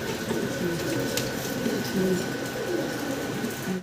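Soft, repeated cooing of young fancy pigeons close by, overlapping low throaty calls continuing over a steady background hum.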